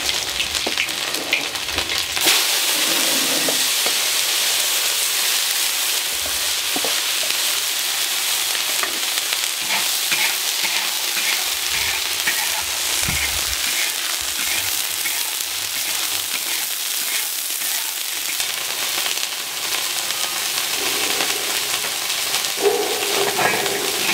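Scallion and ginger stir-frying in a wok, a continuous bright sizzle with crackling and occasional scraping stirs, close and steady throughout.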